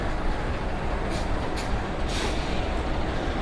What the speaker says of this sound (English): More trucks.